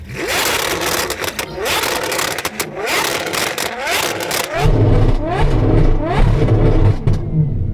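A V12 car in the Roblox game Driving Empire revs hard, with rising and falling engine pitch sweeps, then settles into a loud, deep, steady drone with pops. Voices talk briefly over the engine.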